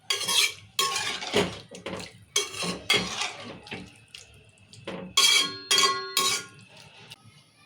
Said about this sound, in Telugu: ఇప్పుడు పులుసు వేసుకున్నాం కదా సార్ మళ్ళీ కలుపుకుందాం ఇట్లా